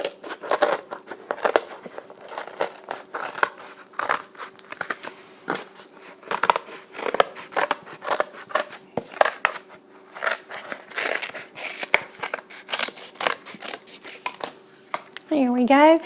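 Scissors snip out paper and cardboard circles for a homemade hand drum, giving a string of close, irregular crisp cuts and rustles with a short squeak at the end.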